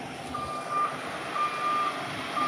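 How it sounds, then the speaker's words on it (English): A truck passes at a moderate distance, its reversing alarm sounding three evenly spaced steady beeps over a low engine hum and background noise. "let's let this truck pass."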